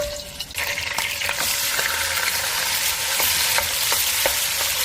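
Meat frying in a generous amount of cooking oil for ganjjajang, a loud, dense, close sizzle that swells after a brief start, punctuated by light spatula scrapes and clicks; no talking.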